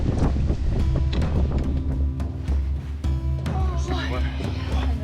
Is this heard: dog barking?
no